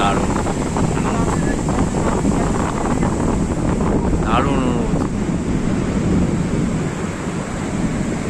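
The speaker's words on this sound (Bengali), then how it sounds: "সমুদ্র কি উত্তাল দেখুন, সামনে একদম সমুদ্র।" Strong wind and rough sea surf roar together at Digha beach, a dense, steady wash of noise that stays near and loud throughout, with faint voices in the background.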